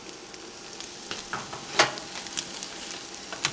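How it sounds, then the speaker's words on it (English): Eggs scrambling in a hot pan for a simple breakfast burrito, giving a soft steady sizzle with a few sharper crackles and scraping ticks, close and fairly quiet, with no talking. "And the eggs are going to cook. Careful. And you just scramble the eggs."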